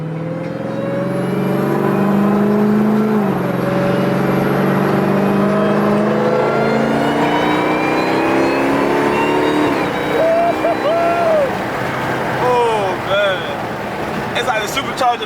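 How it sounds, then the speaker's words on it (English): A supercharged car accelerating hard, its rising supercharger whine climbing in pitch over a loud engine roar, then easing off as excited voices talk over the later revs. "you hear that supercharger"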